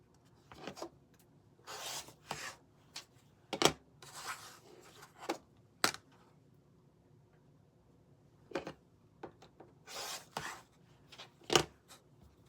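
Fabric charm pack squares being trimmed, giving quiet, close rasping cuts and scrapes in short clusters separated by near-silent gaps.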